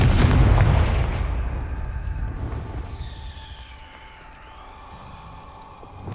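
The Confringo fire spell bursts in Hogwarts Legacy, a loud booming blast at the start that rumbles and slowly fades into a lingering hiss and faint tonal ring.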